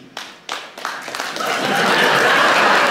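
An audience at a French Bridge Federation talk answers a show-of-hands poll by applauding: a few scattered claps at first, then swelling into steady, loud applause from the whole room.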